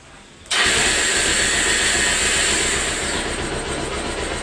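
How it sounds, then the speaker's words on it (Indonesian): A Bajaj Pulsar 220 motorcycle cranked by its electric starter catches abruptly and settles into a loud, steady idle, close and alone with no talking. "Oke, itu starternya nyala ya, kontaknya."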